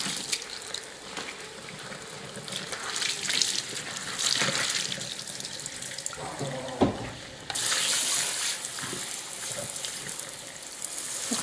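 Water runs steadily into a farmhouse kitchen sink with a broad, hissy wash, briefly interrupted by clunks before the flow resumes louder and fuller.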